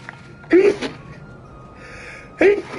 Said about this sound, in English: My allergies go crazy. I sneeze a lot.